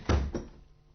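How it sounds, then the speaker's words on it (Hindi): Two quick, muffled knocks land on a door in a radio drama, a short thud followed by a second softer one, and then the sound falls quiet. "दरवाजे पर कौन है?"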